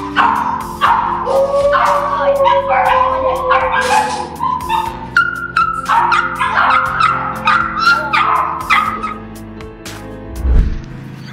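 A dog whimpers, yips and whines excitedly up close in a rapid, uneven series of high-pitched cries, with a brief low thump near the end.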